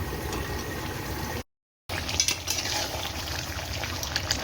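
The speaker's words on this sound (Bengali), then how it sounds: "আলু দিয়ে দিয়েছি এখন মাংস কষা চলছে" Meat and potatoes sizzling and being stirred in a hot pan, a steady fry with scraping stir sounds, briefly cut out partway through, with no talking.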